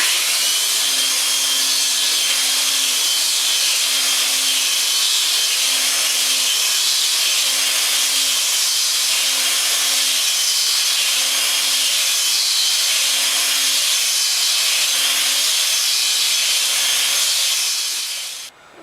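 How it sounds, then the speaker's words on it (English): A belt sander grinds across the wooden top of an antique Harvard dental cabinet to remove stains, a loud continuous abrasive roar with a faint regular pulsing that runs unbroken for almost twenty seconds before cutting off. "we got to belt sand them to get the stains out"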